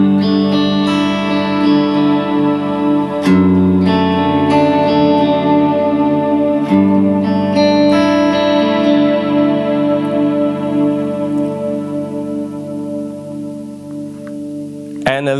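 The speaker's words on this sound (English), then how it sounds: "I tend to have a really big reverb on the left." Electric guitar notes ring out under a large, washy reverb, with sustained chords blooming and decaying into a long shimmering tail.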